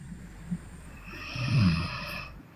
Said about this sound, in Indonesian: Ini hostnya ngorok sudah.